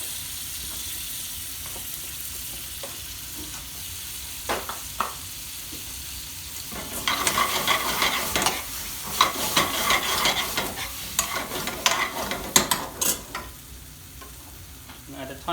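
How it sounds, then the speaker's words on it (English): Lamb sizzles in a pan for a spicy BIR-style lamb balti, first a steady low fry, then louder bursts of frying with repeated scraping and clattering stirring strokes up close. "I'm going to add the lamb in now"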